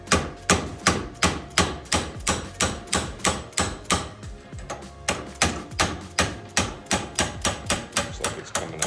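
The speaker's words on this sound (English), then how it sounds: "And then use a hammer and see if we can just tap that thing out of there." A hammer taps a bushing out of an aircraft part in steady, sharp metallic strikes, roughly two per second, close and loud, with a brief pause midway before the rhythm resumes.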